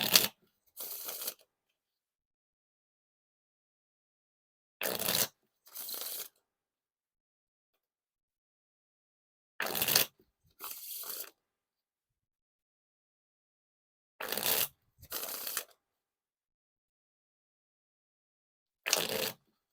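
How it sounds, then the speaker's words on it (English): Theory11 Voyager playing cards are riffle shuffled four times, each a quick burst of rapid fluttering clicks followed by a soft bridge riffle, with silence between. "Now time for the riffle shuffle or bridge shuffle."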